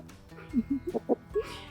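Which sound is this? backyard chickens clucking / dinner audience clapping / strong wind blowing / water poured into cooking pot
backyard chickens clucking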